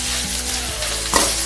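Sliced onions frying in hot oil with urad dal for green tomato chutney, a steady close sizzle with stirring scrapes and a brief louder burst of crackle near the end.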